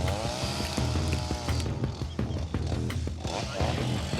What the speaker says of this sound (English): They've got some chainsaws in here, which they're cutting the brush away from.